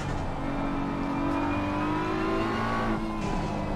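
BMW M6 GT3 race car engine in the racing game Assetto Corsa Competizione, a steady droning engine note with rising pitch sweeps as it accelerates, continuous and moderately loud with no talk.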